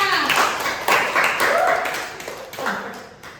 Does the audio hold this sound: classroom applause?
yes